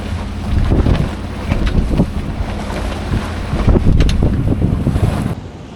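Steady wind buffets a small sailboat underway, with broadband rushing gusts and water noise close to the microphone, loud and continuous with no talking.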